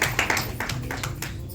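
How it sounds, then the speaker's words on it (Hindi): Audience clapping at a Lions Club installation ceremony in Kolkata, a short burst of hand claps over a low background hum, fading toward the end. "जोरदार तालियां।"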